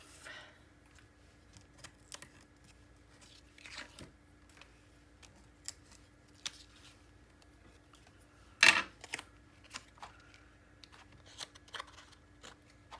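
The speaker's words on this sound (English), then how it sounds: "Get this tape off." Tape peeled off paper while assembling a steampunk mini album, scattered faint crackles and taps leading to one sharper, louder tearing burst partway through, with no talking.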